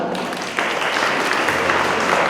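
A crowd claps steadily, a dense, continuous patter of applause that swells slightly after a moment.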